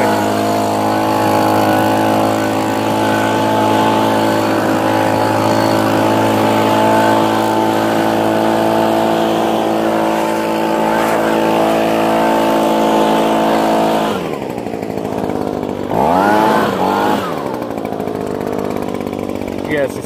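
An Echo PB 2520 handheld leaf blower runs loud and steady at close range with a constant engine drone, then its pitch drops and wavers as the throttle changes near the end.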